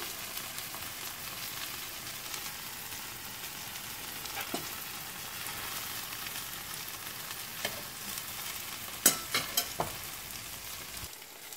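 Pain perdu, French toast, fries in a pan with a steady soft sizzle, then a few sharp utensil clicks and a thump near the end as a slice is flipped, with no talking.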